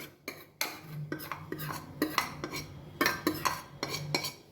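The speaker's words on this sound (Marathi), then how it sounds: "आपण ती डावाने व्यवस्थित हाटून" A metal ladle repeatedly scrapes and clanks against a pot while stirring Maharashtrian taro-leaf curry, in an uneven rhythm of close, sharp knocks.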